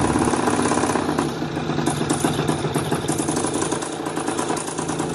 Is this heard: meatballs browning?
no